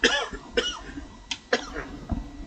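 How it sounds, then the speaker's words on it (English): Several sharp coughs and throat-clearing bursts in a quiet room, close and fairly loud, spaced irregularly with short pauses between them. "I'm going to have a good cough."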